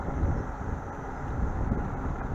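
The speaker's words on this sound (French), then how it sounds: "Je suis pas sûr que vous entendrez ma voix tout le temps, étant donné le vent qu'il y a." Steady low wind rumble buffets the microphone while riding an Ausom Gosoul 2 Pro dual-motor 2800W electric scooter, a continuous roaring hiss with no voice over it.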